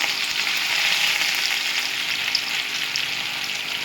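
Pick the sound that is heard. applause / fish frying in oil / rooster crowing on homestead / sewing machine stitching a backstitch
fish frying in oil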